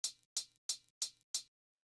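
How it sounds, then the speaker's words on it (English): Hi-hat from a future beat: five crisp, bright closed hits evenly spaced about a third of a second apart, each decaying quickly, played alone with nothing else around them. "And then the hi-hat sounds like this."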